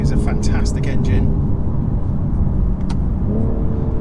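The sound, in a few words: BMW M240i B58 engine accelerating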